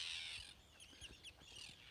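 Several birds calling in an open rocky field, short harsh crow-like calls repeated at irregular intervals, faint and distant over a low steady background hiss, with no voices.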